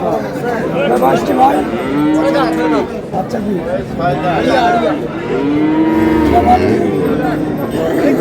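Dairy cows and calves at a busy rural cattle market, several loud, drawn-out moos overlapping one another close by, over a constant babble of people talking.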